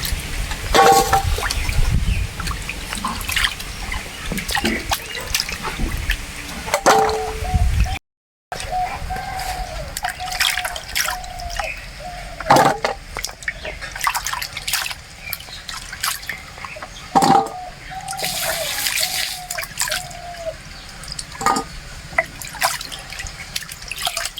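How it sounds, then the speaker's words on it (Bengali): Cassava roots are washed in water, with continuous sloshing, splashing and dripping plus occasional hard knocks of roots against a vessel, broken by a brief silence partway through. "এবারে আলুগুলোকে জলে ভালোভাবে ধুয়ে পরিষ্কার করে নেব।"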